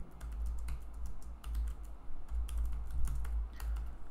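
Someone types a text prompt on a computer keyboard, a close run of quick, uneven clicking keystrokes over a low background hum, with no talking.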